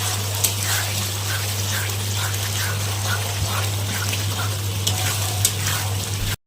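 A pea curry simmers and fries in a pan after a little water is added, giving a continuous close bubbling sizzle over a low steady hum, with occasional faint stirring ticks.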